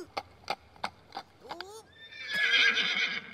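A voice imitates a horse's neigh, a rising whinny after a few sharp clicks, then a loud breathy blowing sound.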